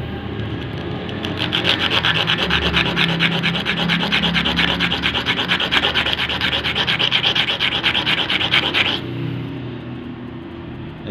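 Steady rasping rub of a sewing machine part being smoothed down, continuous scraping strokes loud and close for about eight seconds before stopping, no talk.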